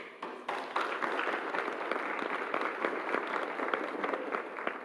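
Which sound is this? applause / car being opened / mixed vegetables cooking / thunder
applause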